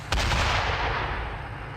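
Artillery indirect fire in the Steel Beasts tank simulation, set in a 1987 river assault: a single heavy blast with a sharp onset and a long, loud rumbling decay, with no speech.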